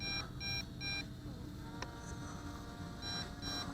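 Repeated high electronic beeps in short bursts of three over a constant insect-like whine of propellers close by, from an MJX Bugs 2W B2W GPS FPV quadcopter.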